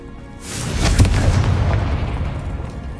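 Confringo spell explosion in Hogwarts Legacy: a single loud, close blast that swells quickly into a deep boom and then rumbles away over about two seconds.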